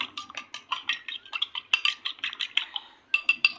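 Egg beaten with a pinch of salt in a bowl for kebabs, a quick rhythmic series of close, bright clinks of a utensil striking the bowl, with a brief pause before resuming.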